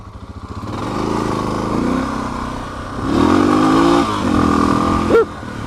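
A Suzuki DR650 dual-sport motorcycle with an aftermarket DynoJet jet kit pulls onto the highway, its single-cylinder engine droning loudly and close, rising and falling through gear changes with steady wind rush.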